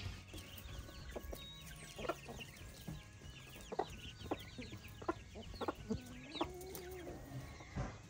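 Hens cluck and chatter in a steady, busy barnyard chorus, several birds close by with sharp bursts among softer murmuring.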